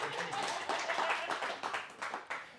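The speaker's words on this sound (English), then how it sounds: "clap for me, please" A studio audience claps for the host at the opening of a talk show, a dense, fairly close patter of hands with uneven surges in loudness.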